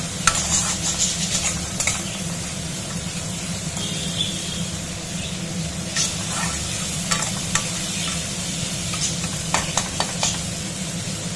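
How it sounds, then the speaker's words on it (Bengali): Crab claws fry in a pan while a spatula stirs and scrapes them, a steady sizzle broken by sharp metallic clinks and scrapes at uneven intervals. "আমার দাঁড়াগুলো ভাজা হয়ে গেছে,"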